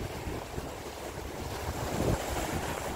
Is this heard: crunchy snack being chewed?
no